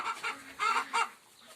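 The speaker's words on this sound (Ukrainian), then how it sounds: "Курка!" A chicken clucks softly a few times in short, throaty bursts, close by but fairly quiet.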